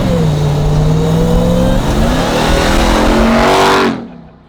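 Supercharged engine in a full-size pickup truck revving hard with a loud exhaust, rising steadily for about four seconds and then cutting off sharply, near and continuous with no talking.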